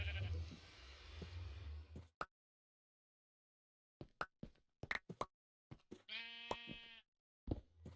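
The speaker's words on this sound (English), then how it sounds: "I don't understand why there's a sheep in here" Sheep bleating in Minecraft survival mode: a wavering, harmonic bleat rings out near the end, set apart from scattered short clicks and knocks after a stretch of silence.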